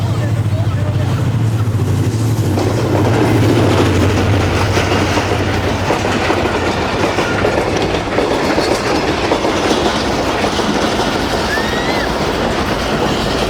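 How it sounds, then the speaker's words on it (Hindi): The Karachi Express passenger train passes Landhi Junction hauled by a ZCU 30 locomotive, a loud steady rumble with rhythmic clickety-clack of wagons rolling close by throughout. "तो ये आ गई है जी 15 अब कराची एक्सप्रेस ZCU 30 के साथ।"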